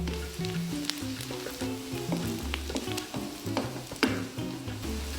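Shallots, garlic and dried shrimp frying and being stirred in a wok, a steady crackling sizzle with occasional scrapes and taps of the spatula, close-up over soft background music, no voices.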